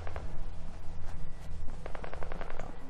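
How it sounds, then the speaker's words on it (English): Sniper rifle fire in the video game Fallout 4, with several sharp gunshot cracks spread across a dense, loud mix of game combat noise and a low rumbling background. "Okay, sniper rifle, go."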